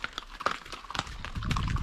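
Hoofbeats of a ridden horse on a long trail ride knock out a steady, close clip-clop rhythm, several distinct strikes with a rising rumble near the end, no voices.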